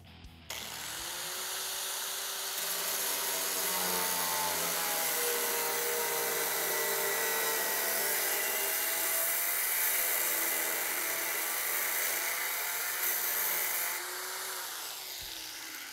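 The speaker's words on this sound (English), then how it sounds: "Steve just finished cutting off our rusted outer skin of the fender" A power tool cutting away the rusted outer skin of a vehicle's fender makes a loud, steady, high-pitched grinding whine that holds for about fifteen seconds, wavering in pitch as the cut goes on.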